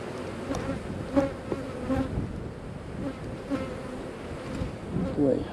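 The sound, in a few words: honey bees buzzing in an opened hive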